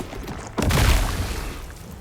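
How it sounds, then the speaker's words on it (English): Plague Explosion, a Rune Stricken Wand attack in the game No Rest for the Wicked, bursts in after a short quiet lead-in as a heavy booming blast that rumbles on with a low, steady roar. "Here is Plague Explosion."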